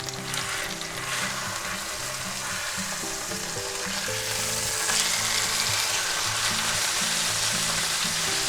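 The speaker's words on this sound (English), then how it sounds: "we're going to sear that on that side, and we're going to flip it over" A London broil steak sears in a cast iron skillet with a loud, continuous close-up sizzle that holds steady and grows slightly stronger toward the end, under a faint low hum; no voices.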